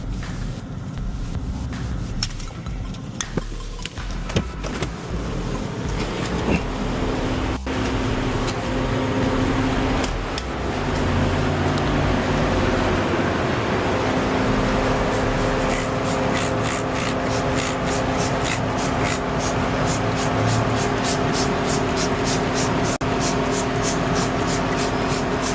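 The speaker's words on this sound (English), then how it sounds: "Then we're gonna go through the touchless car wash." A car sits inside a touchless car wash as high-pressure water jets and spray hiss and roar steadily around it, with machinery humming underneath and sharper bursts and rattles through the wash cycle.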